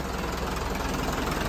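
An HMT 5911 tractor engine runs in first gear, close by, with a steady, heavy low-pitched drone and a faint knocking rhythm throughout, and no talking.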